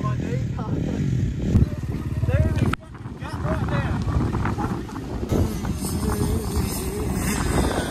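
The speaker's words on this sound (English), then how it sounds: "First time on a dirt bike." Dirt bike engine revving while riding on dirt, a loud buzzing drone with shifting pitch, heavy wind rush over the microphone and a brief dip midway, with no clear talk.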